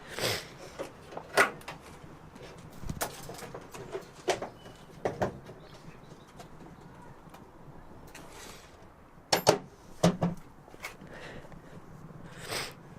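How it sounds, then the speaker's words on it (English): A classic Mini's boot lid being worked open, with scattered knocks, clunks and rattles of metal at close range, some louder impacts clustered around the middle and late part, over a quiet room background. "I'll get this boot open and show you inside here."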